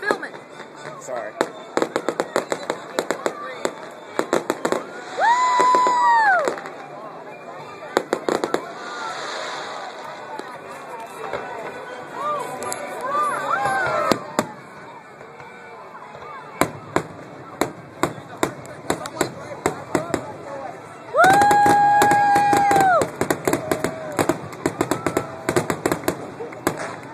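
Fourth of July fireworks over Charleston, West Virginia crack and pop in dense bursts with sharp bangs throughout, several whistling rockets rising among them, while people talk nearby.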